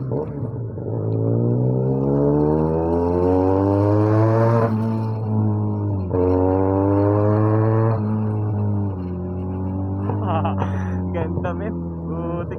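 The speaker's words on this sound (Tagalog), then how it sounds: "ang lakas ng tunog ng pipe niya dito" A Benelli 302S motorcycle exhaust pipe revs during a test ride, a loud close engine note climbing in pitch through several rising sweeps, dropping and building again.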